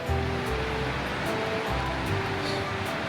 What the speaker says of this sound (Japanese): そして川のせせらぎも聞こえる。